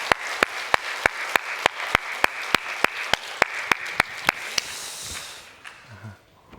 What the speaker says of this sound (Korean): 우리 오늘을 주신 하나님께 영광의 박수 올려드립시다.